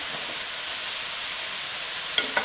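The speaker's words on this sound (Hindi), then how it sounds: "गाजर में चीनी डालने के बाद अच्छी तरह से चीनी को मिक्स करना है गाजर के साथ।" Carrots and sugar cooking in a pan for gajar ka halwa, a steady close hiss of sizzling with two quick scraping stirs near the end.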